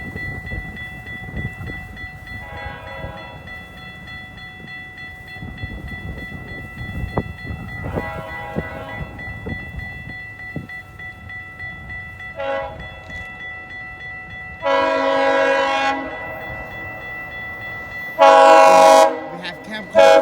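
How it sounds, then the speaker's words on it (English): A GO train nears the Timothy Street level crossing in Newmarket, its horn sounding in several blasts that grow louder and longer, the final ones close and strong over a steady rumble. "now we are at the Timothy Street crossing in Newmarket. And we have a GO train coming."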